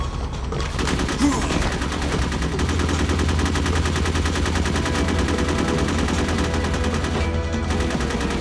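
Dense, rapid gunfire from the Metal Gear Solid video game rattles almost nonstop for several seconds, loud bursts like machine-gun fire layered over a steady low hum of game background sound.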